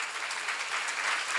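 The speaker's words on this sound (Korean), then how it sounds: "박수" A seminar audience claps steadily throughout, a dense, even patter of many hands at moderate volume with no pauses.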